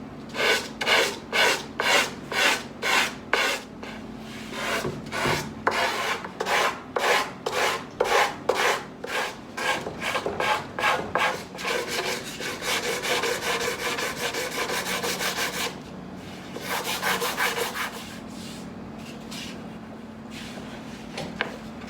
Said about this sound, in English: So just a little bit of slow and careful sanding.